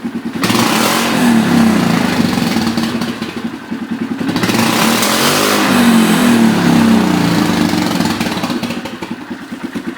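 A Polaris Sportsman ATV engine with a modified exhaust runs close by with a raspy, throaty note, rising and falling in pitch as it revs, steady throughout with no talking.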